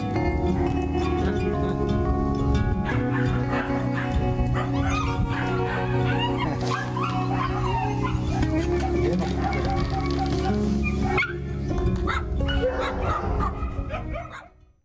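At a municipal dog shelter, dogs bark, yip and whimper in a continuous jumble at moderate distance, layered under steady music, with the sound tailing off at the very end.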